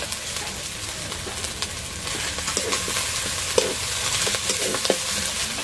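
Garlic, spices and chili paste frying in mustard oil for a Bengali-style chicken curry, a steady broadband sizzle with occasional stirring scrapes, close and alone with no talk.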